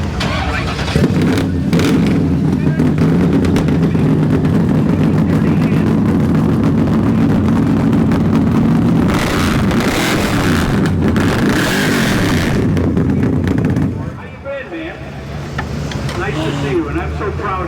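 A drag car's loud, raw engine rumbles and revs hard through an open boom tube exhaust, then drops off sharply before idling again near the end.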